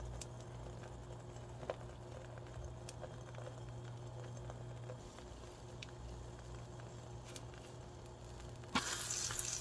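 Faint, steady sizzle of eggs poured into a preheated, oiled frying pan, with a soft crackling patter throughout and a sudden brighter hiss near the end.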